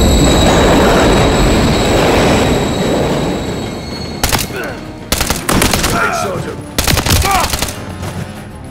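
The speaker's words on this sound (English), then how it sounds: "Another train coming." Loud rumble of a train passing through a London Underground tunnel in a first-person shooter game, roaring close at first and fading, then broken by several sharp bursts of gunfire.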